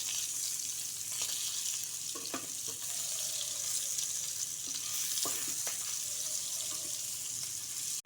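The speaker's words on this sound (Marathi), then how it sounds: "गॅस नंतर स्लो करायचा आणि मंदाच्यावर तळून घ्यायचं चांगलं ब्राऊन कलर यायचं" Bitter gourd (karela) slices fry slowly in oil over a low flame, giving a steady, even sizzle throughout with a few faint clicks of utensils. Nobody speaks.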